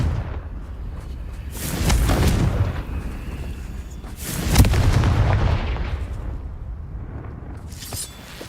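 Confringo fire spell blasts in a wizarding video game: two heavy, booming explosions a few seconds apart, each a loud burst of rumbling noise that trails off, with a fainter crackle near the end.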